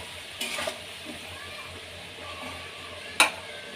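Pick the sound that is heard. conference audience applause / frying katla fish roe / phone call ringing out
frying katla fish roe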